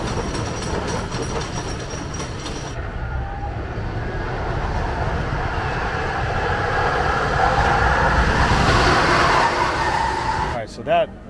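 A wooden roller coaster thunders along its track at Silverwood Theme Park, a continuous rumbling clatter that builds louder toward the end, with voices mixed into the din.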